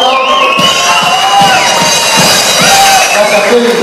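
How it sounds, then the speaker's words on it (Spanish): A crowd at a Latin music CD presentation applauds and cheers loudly, with shouts and whoops rising over sustained clapping and a musical backdrop throughout. "nuestro querido Kevin Borda, un fuerte aplauso"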